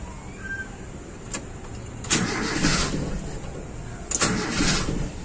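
A car engine with a fuel injection pump governor fault cranks hard and struggles to start. Two loud rough cranking bursts of about a second each sound close by, separated by uneven running, with no talking.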